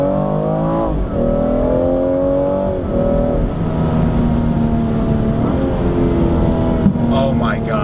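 A 2017 BMW M240i accelerating hard, engine note climbing through the revs with shifts between gears, loud and close from inside the cabin.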